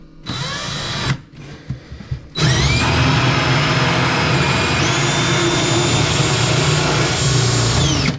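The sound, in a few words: power drill drilling through wall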